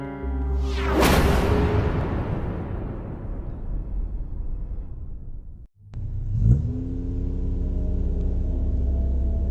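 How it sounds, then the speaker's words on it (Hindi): A car drives along a deserted road at night, a loud engine rumble swelling past with a whooshing rush, briefly dropping out and then returning as a steady drone. "सुनसान सड़क पर राजेश और सुजीत गाड़ी ड्राइव करते हुए जा रहे थे।"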